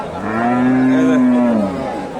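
A cow at a cattle market, among Desi cows and Sahiwal heifer calves, gives one long, loud, close moo that swells and then fades.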